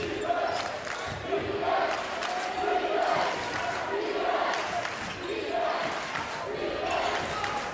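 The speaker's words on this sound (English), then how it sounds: "The home crowd chanting defense." Home crowd at a high school basketball game between Northgate and Las Lomas chants in a steady repeating rhythm, loud and filling the gym throughout.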